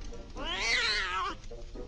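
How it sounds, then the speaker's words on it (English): A wild cat in the mobile game Scary Stranger 3D lets out one long, loud, drawn-out yowling meow, close and clear with nothing else over it. "sick the wild cat on them"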